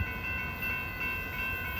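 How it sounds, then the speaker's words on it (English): Train rolling past Bayfront Park in Pinole, California, heard as a faint, continuous distant rumble with steady humming tones, no voices over it. "Look at that train, folks."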